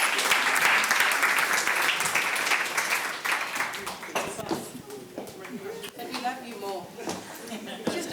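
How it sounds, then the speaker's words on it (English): Audience applause for a speaker at a hall of fame induction fills the first seconds, then tapers off as a voice starts talking over the last claps. "please give her a round of applause"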